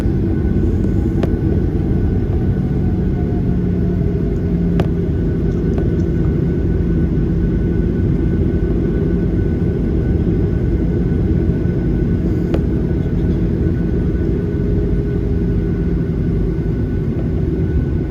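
Cabin of an American Airlines Boeing 737-800 airliner on a night departure, with a loud, steady low engine and airflow roar filling the whole span and a few faint clicks on top.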